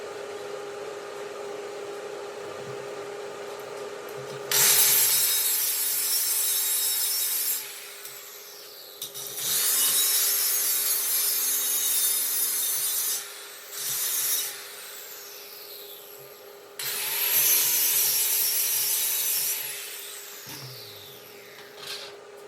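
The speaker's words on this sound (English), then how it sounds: "I'm going to grind up some of the stuff on it" An angle grinder working over a weld on a Swisher pull-behind mower tongue hitch, several loud harsh grinding bursts of a few seconds each separated by spin-down lulls, with a steady motor hum underneath.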